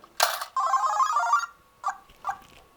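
A Pokemon coin bank toy playing an electronic sound effect: a short bright chime, then a sustained ringing tone, followed by two brief blips, with no talk.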